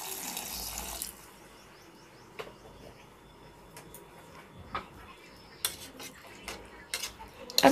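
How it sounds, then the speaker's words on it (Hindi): Water poured into a pan of chicken curry masala in a home kitchen, a soft steady wash followed by faint clinks and taps of utensils against the pan, fairly quiet with no talking. "अब हम इसमें पानी ऐड कर देते हैं।"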